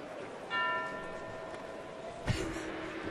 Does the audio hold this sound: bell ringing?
yes